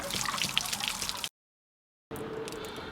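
Water trickles and gurgles out of the fresh water tank of a Forest River Wolf Pack 27Pack10 camper during winterizing. The flow runs steadily close by, cuts out to silence for under a second, then resumes.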